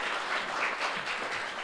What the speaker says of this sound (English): Nice round of applause for the opening statements for all five of our candidates up here.